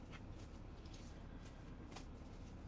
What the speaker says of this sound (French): je vais tout simplement faire la lecture avec les cartes de